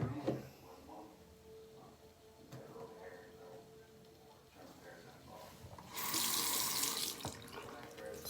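Water gushes from a tap into a sink, a loud steady splash that starts near the end after quieter handling noises.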